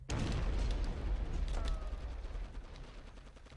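Gunfire in the war video game Operation Flashpoint Resistance, starting with a loud heavy burst and then fading into scattered distant shots and rumbling battle noise, with a tank fighting nearby.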